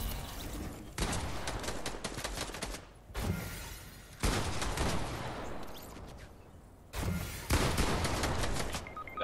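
Assault rifle fire in a Fortnite console trio tournament match, with loud sustained bursts of rapid shots from several guns. The bursts are broken by short pauses, and no voices are heard over the firing.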